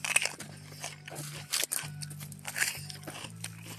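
Raw green chili pepper bitten and chewed outdoors on a chili farm in Israel, giving several crisp crunches close to the mic, spread over a few seconds with a low steady hum underneath.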